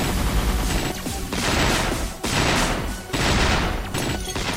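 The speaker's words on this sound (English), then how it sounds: "Let me try using the wing gun." Sustained automatic fire from a wing gun in the video game Bugs Must Die, loud and dense, coming in three or four long bursts with short gaps between them.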